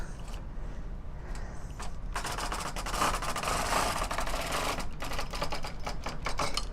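A Brother SK-151 knitting machine carriage is pushed across a row of shag loops being knitted back from hold position, giving a steady, close mechanical clatter for a few seconds after some quieter preceding clicks.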